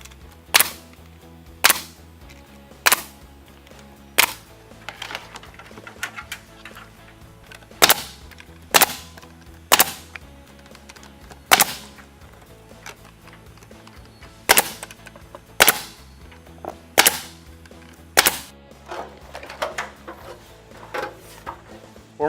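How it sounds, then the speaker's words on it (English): LP SmartSide vertical siding panels are nailed every 6 inches in a board-and-batten installation, with sharp, loud nail-gun shots spaced a second or two apart, each followed by a brief rattle, across a quiet background. "And then we're going to start our nailing process."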